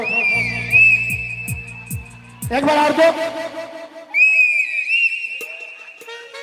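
A whistle sounds in long, steady, high-pitched blasts amid a Maithili folk music performance, with a voice talking over a low beat in between.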